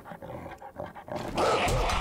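A dog growls in the survival video game 7 Days to Die, low rough snarling that starts moderately and swells into a louder, sustained growl toward the end.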